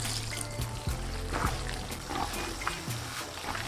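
Pasta water pours and trickles softly into a pan of fettuccine alfredo sauce, with light splashing and a faint sizzle close by, no voices.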